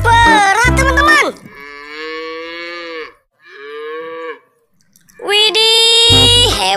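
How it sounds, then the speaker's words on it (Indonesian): A dairy cow moos twice in long, drawn-out calls, the first about a second and a half and the second a little shorter, separated by a brief pause. Loud, excited talk comes just before and after the moos. "Ada sapi perah teman-teman."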